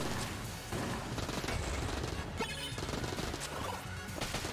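Rapid video game gunfire from a powerful weapon in Exit the Gungeon, a dense, loud burst of shots and crashing impacts running continuously with game effects and no talking.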